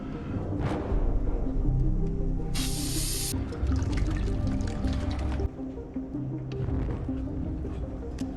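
A can of Baygon insecticide spray gives one short, sharp hiss lasting under a second, set against a busy, dripping and rumbling film soundtrack.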